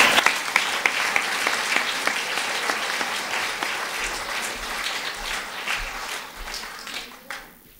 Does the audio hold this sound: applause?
yes